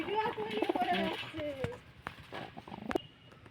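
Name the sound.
green pigeons cooing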